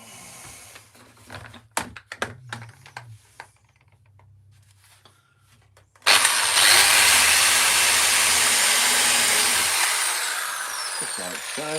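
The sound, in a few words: power drill drilling into wood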